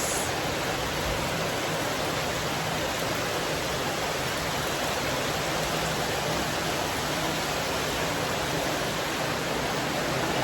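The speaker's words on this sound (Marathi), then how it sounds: "पाऊस किती जोरात यायला लागलाय ते" Heavy rain pours down in a dark afternoon storm, a dense, unbroken roaring hiss at steady loudness with no voices.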